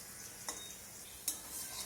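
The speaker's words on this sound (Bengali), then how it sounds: "একটু সময় নিয়ে আলুগুলোকেও ভাজতে হবে একই রকমভাবে, যাতে ভাজতে ভাজতে আলুটা অনেকটা সেদ্ধ হয়ে যায়" Thin potato slices fry quietly in a wok, a soft steady sizzle broken by two sharp scraping stirs of the spatula.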